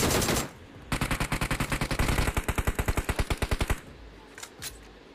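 Rapid automatic gunfire from the battle-royale game BGMI rattles out in one long burst of evenly spaced shots, followed by a few scattered single reports, fairly quiet overall.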